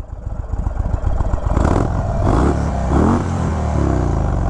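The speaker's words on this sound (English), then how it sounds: "This is the 116 cubic inch Thunderstroke. Oh, listen to that thing." A 116 cubic inch Indian Thunderstroke engine on a 2021 Indian Chief Bobber Dark Horse motorcycle fires up and revs hard, a deep throaty rumble rising and falling in loud, close bursts.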